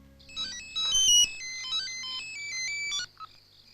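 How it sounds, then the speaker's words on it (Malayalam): A mobile phone ringtone plays a bright electronic melody of short stepped tones, starting after a brief pause and cutting off near the end, with no talking over it. "ഫോൺ വിളിക്കുന്നു"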